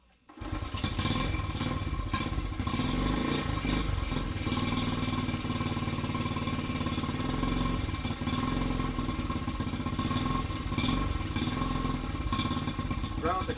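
Small Honda CT70 motorcycle engine running cold on choke after an XR70 carburettor swap, a steady close, loud idle with clattery mechanical texture that holds throughout, with possible faint talk underneath.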